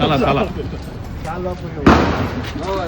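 A single firecracker bursts with a sharp, loud bang during Diwali celebrations, set off amid excited voices and chatter.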